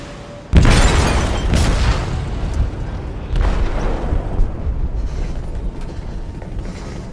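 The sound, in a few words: explosive detonated in a ship's hold, from the video game Detroit: Become Human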